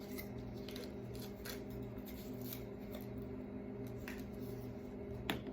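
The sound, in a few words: scissors cutting capsule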